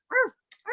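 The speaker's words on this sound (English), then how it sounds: "Some dog barking." A dog gives two sharp barks, the first longer and fuller, the second cut short, with a brief higher yelp between them, fairly close and alone with no talk.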